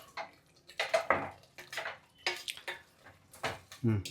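A spoon stirs tondekayi (ivy gourd) masala curry in a metal pot, several scraping and clinking strokes, close and quiet, with no voices.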